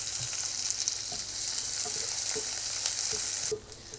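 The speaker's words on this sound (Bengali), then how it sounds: "পেঁয়াজটাকে এইভাবে ভেজে নিব" Two large onions sizzle steadily in hot oil with garlic cloves for a potol bhorta, a constant bright frying hiss with soft scattered pops.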